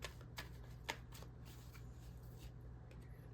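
A deck of tarot cards being shuffled before one more card is drawn: a quick series of light flicks and riffles, strongest at the start and then trailing off, quiet and close.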